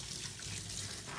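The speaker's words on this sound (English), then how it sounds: "again, just use lukewarm water to clean off Bodhi's." Lukewarm water runs steadily from a tap while a dog is washed, a close, continuous splashing trickle with no voices.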